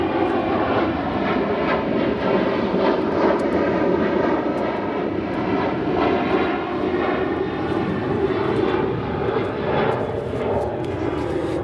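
A steady, loud aircraft engine drone at Chicago O'Hare from a plane in Purdue University livery, registered N958SP, with a broad rumble and layered engine tones holding throughout.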